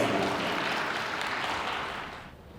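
Wedding guests give a blessing round of applause at a ceremony, a dense wash of clapping that tapers off toward the end.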